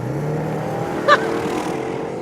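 A 2014 Bentley Continental GT accelerating hard in sport mode, its engine holding a steady, loud roar close by with one brief sharper burst partway through.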